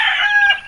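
A Gilmore Hatch gamefowl rooster crows in a chicken coop, one short loud close call cut off within a second.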